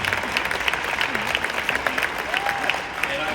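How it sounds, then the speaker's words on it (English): An audience breaks into applause at a MAHA event, a brief burst of crowd clapping with voices mixed in and a few cheers rising over the claps. "That deserves an applause right there."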